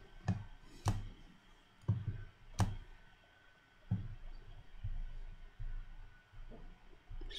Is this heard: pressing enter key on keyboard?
yes